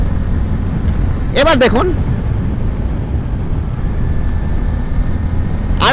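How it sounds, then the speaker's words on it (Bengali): A 2024 Bajaj Pulsar N160 motorcycle accelerates through its gears on the road, with a steady, loud engine and wind rumble running throughout while someone briefly speaks over it. "থার্ড গিয়ারেও দেখুন থ্রোটল আরও দিচ্ছি আমি। Fourth gear, fifth gear"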